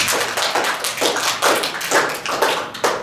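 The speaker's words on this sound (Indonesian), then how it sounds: "Beri untuk Ika, berikan aplaus" Applause in a classroom during a microteaching lesson: a few pairs of hands clap in steady, slightly uneven bursts, close and fairly loud, with no talking.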